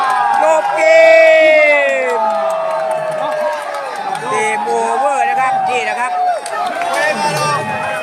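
Large crowd cheering, whooping and shouting at a Thai-Myanmar sepak takraw match, a dense roar of many voices with rising whoops throughout, loud and close.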